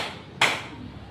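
A single sharp hand clap in a primary school classroom during a clapping concentration game, crisp and close, standing out briefly against faint room noise.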